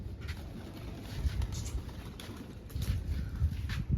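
Pigeons being fed grain and water give soft intermittent coos and rustles, nearby and moderately quiet, over low background noise.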